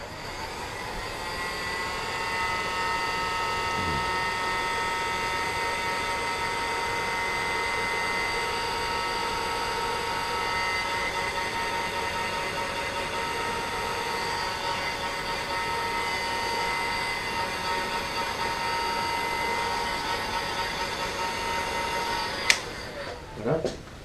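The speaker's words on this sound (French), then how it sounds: "le chauffer juste un tout petit peu avec soit un sèche-cheveux ou alors ici un petit chauffe thermique" A small heat gun gently warming a motorcycle fuel tank gives a steady, droning electric whine with a humming fan that holds for a long stretch, then a click and a brief clatter at the end.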